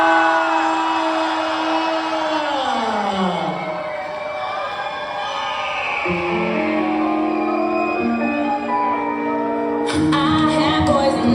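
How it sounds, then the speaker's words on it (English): A crowd at a drag show cheers, whoops and yells for a performer, loud and sustained throughout, with music tones running beneath the noise. "scream and make some noise for everybody"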